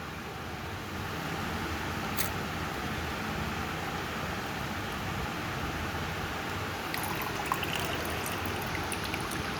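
Water trickles slowly and steadily out into a fish acclimation jug, a close, continuous soft hiss and gurgle with a few faint clicks, no voices.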